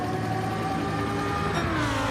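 A race car engine, apparently from a racing video game, drones steadily at high revs, its tone sliding slightly as it accelerates, continuous and moderately loud with no talk over it.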